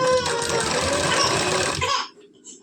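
A sewing machine stitches the sleeve of a 42-inch belt blouse in a fast, steady mechanical whir that runs close and loud for about two seconds, then stops.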